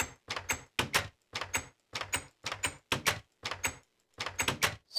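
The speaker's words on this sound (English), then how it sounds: "all of a sudden the door sounds like this" A Minecraft door is opened and shut repeatedly, about eight sharp wooden clacks in a steady rhythm separated by brief silences, loud and close.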